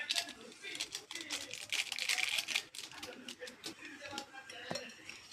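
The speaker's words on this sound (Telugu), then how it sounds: "ఇప్పుడు ఈనో వేసుకొని మిక్స్ చేసుకుందాం" A utensil rattles and clinks quickly against a bowl while cake batter is mixed after Eno is added, giving a busy, rapid tapping texture that continues throughout.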